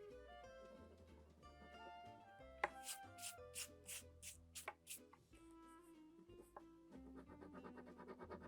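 Tool scratching through layered oil pastel on paper for a Roman-style sgraffito vase, in short rasping strokes over quiet background music.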